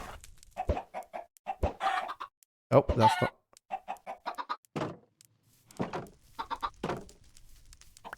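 Chickens in the Minecraft modpack Sky Bees 2 cluck in short repeated bursts, close and loud, in irregular clusters separated by brief pauses, with a voice briefly speaking over them.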